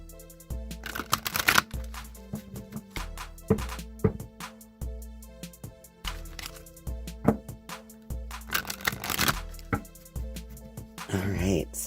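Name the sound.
shuffling Queen of the Moon oracle cards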